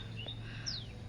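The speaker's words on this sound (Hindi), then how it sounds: "चिड़िया की आवाज़ आ रही है पीछे" Small birds give a couple of thin, high chirps in a quiet vegetable garden with garlic plants and gourd vines, faint and brief over a low background hum.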